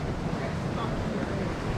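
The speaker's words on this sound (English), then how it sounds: "Look at that, the sea's swirling below me" Sea swirling against rocky Scottish coastline below a cliff, a steady close rush of churning water mixed with wind buffeting the microphone, continuous and fairly loud with no distinct wave breaks.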